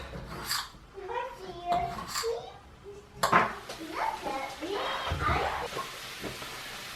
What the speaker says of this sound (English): Let's chop this up in cubes.